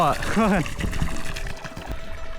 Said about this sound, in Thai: น้ำเต็มท่อ